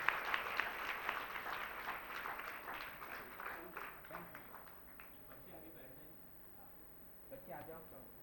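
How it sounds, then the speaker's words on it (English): An audience applauds school students from RSBV West Vinod Nagar at a stage event, a steady wash of many hands clapping that slowly fades over several seconds, with some talk underneath near the end. "Let us give them a huge round of applause"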